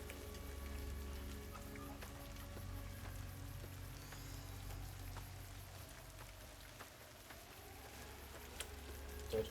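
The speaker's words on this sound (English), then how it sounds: "Oh, it's raining." Steady game rain patters across a surface in Fallout: New Vegas, a soft, even hiss with a low ambient rumble beneath and no voices.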